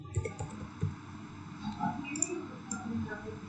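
Typing on a computer keyboard while coding HTML in VS Code, a few soft scattered clicks and taps, faint and close, with someone talking over them.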